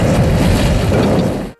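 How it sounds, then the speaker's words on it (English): A loud, dense blast rumbles from a scene in a James Bond film, holding steady for over a second before cutting off abruptly. "like every other James Bond film, we've also got a fair number of explosions"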